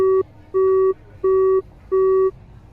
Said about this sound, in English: my cell phone rang loudly